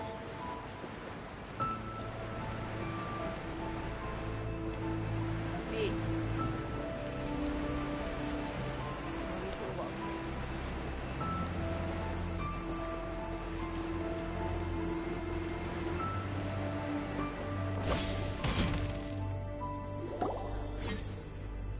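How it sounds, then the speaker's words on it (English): Rain falls steadily in a video game, a soft continuous patter with scattered drips over a low ambient background, with a brief brighter splash of sound near the end. "Now it's bound to rain."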